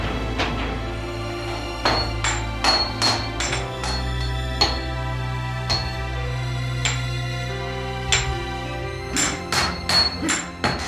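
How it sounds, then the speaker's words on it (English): Sledgehammer blows on metal during traditional Seki sword making, a series of sharp ringing strikes spaced irregularly over a steady low background hum, moderately close. "The sledgehammer was heavy."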